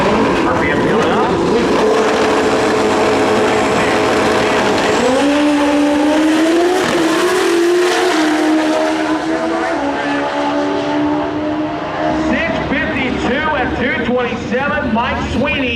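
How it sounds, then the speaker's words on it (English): A Pro Street drag racing motorcycle revs hard at the staging line, its engine note climbing and wavering, loud and continuous, with a crowd and an announcer's voice over it. "RPM building up."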